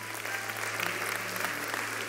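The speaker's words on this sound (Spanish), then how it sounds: "Vamos a darle un aplauso a estas personas acá." Church congregation applauding people invited forward during a sermon, a continuous, fairly distant wash of clapping over a low steady hum, with no clear speech.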